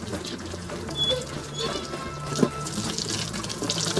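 Running water splashing during a bath for a Great Pyrenees dog, a steady quiet hiss with small splashes and a brief knock, close by.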